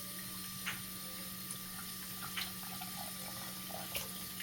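A fish for soup is washed clean under running tap water, a steady faint splashing stream with a few soft drips and knocks, heard alone.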